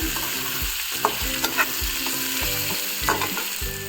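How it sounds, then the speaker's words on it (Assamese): Mango pieces sizzle in hot oil while a utensil stirs them, a close steady frying hiss broken by regular scraping strokes against the pan, with no voices present. "এনেদৰে অকণমান ভাজি ল'ম।"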